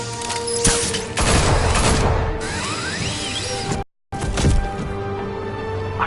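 Gunfire in a Batman Telltale game scene: loud bursts of shots mixed with whooshes and crashing impacts, fairly close, with a brief total dropout near the middle.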